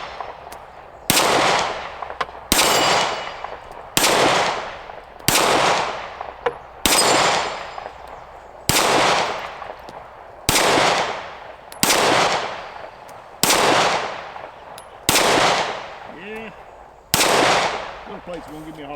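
A Kel-Tec P15 pistol fires at steel plates, loud single gunshots spaced about every one to two seconds, each sharp crack followed by a decaying ring.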